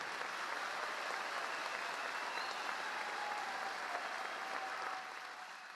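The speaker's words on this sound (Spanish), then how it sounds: "Un aplauso para ellas." A crowd at an assembly of coca-growing organizations in Catatumbo claps continuously, a dense steady wash of applause that thins slightly near the end, heard from some distance.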